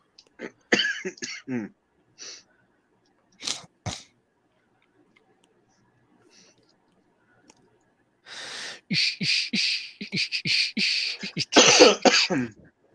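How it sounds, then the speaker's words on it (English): Several harsh coughs and throat clearing, a rough burst at the start and scattered single coughs, then a longer loud coughing fit near the end, close and prominent against near silence. "can't be coughing in public, man"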